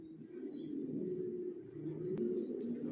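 Racer pigeons, young Johnson-line birds, cooing softly and continuously in low, rolling murmurs, fairly faint, with a light chirp and a brief click in the background.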